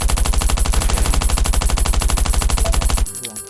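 An AK rifle in the Last Island Survival game fires a long, rapid automatic burst of loud, evenly spaced shots for about three seconds, then stops abruptly, leaving faint background noise.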